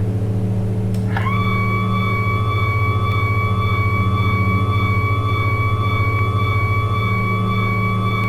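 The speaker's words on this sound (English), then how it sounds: "at this point, we can lower the landing gear" Landing gear lowering on a Saab 340A turboprop in the X-Plane 11 flight simulator, a mechanical clunk and rising whine that settles into a steady tone over the continuous loud drone of the engines.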